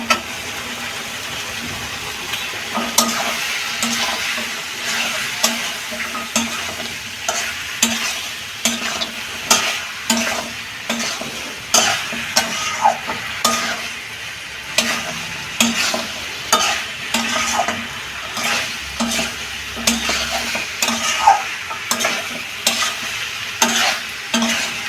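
Papaya pieces and lentil dumplings (bori) frying in a pan, stirred with loud, rhythmic scraping strokes over a continuous close sizzle throughout.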